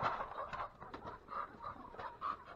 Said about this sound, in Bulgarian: Петлю, декоративен петлю.